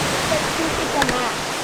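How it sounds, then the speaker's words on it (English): Distant waterfall in the Costa Rica jungle, a steady broadband rush of falling water filling the whole short stretch, with faint voices mixed in. "You can see the waterfall there in the distance."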